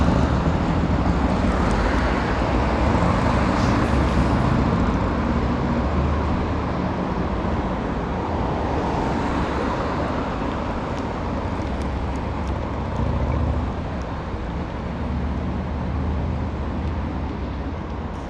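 Cars pass in evening street traffic in Tokyo, a dense broadband roadway wash that swells and fades, heard from a bicycle amid wind rush.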